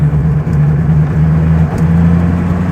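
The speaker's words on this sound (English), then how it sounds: "We're going for wide open throttle." A car engine in a workshop held at a steady, loud drone, its deep hum barely rising or falling across the short stretch, with no voices over it.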